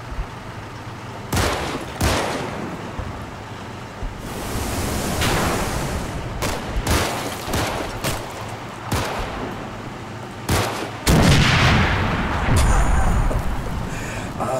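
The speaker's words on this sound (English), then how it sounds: "Let's see if he can flame through a building onto the other side." A flamethrower fires through a building in a combat strategy game, making a long, loud roaring whoosh broken by sharp cracks and bursts that repeat all the way through.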